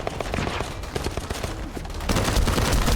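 Dense, continuous gunfire rattles in the video game The First Descendant, rapid overlapping shots forming a loud fusillade that grows heavier near the end.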